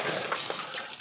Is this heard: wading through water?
yes